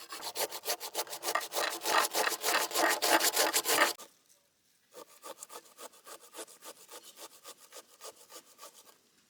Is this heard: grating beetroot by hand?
yes